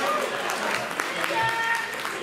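Steady applause from an audience at a youth competition award ceremony in Arendonk, as a third-place finisher walks up to the podium; continuous, fairly even clapping throughout, with faint voices mixed in.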